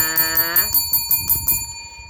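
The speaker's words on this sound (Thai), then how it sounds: "กดกระดิ่งกริ้งกริ้ง" A bright notification-bell sound effect rings with a rapid series of clear, ringing dings that then decay, loud and isolated.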